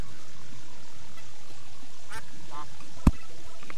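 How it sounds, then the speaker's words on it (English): A single sharp duck quack from the video game Terraria pops out near the end of a low background hum, loud and brief, with no talk over it. "Did you hear that quack?"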